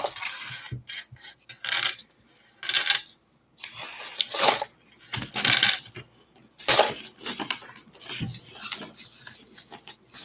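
Loose pennies and other coins clink and rattle as they are sorted by hand in a box, with irregular bursts of metallic jingling separated by short pauses.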